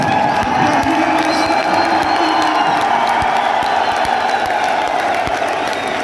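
A large crowd cheers, whoops and applauds loudly and continuously at a speech by Prime Minister Imran Khan, a dense, sustained roar of clapping and shouting throughout.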